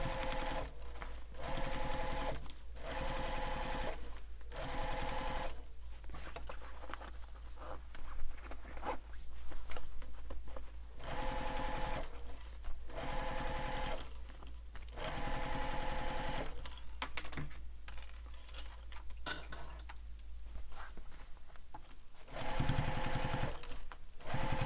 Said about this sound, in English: we're going to baste this. We're not sewing this, we're just basting this.